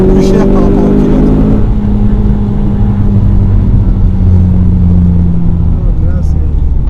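Renault Clio 4 RS Trophy Phase 2 on track at Clastres, heard from inside as a loud continuous engine drone and road roar while riding, with people talking over it.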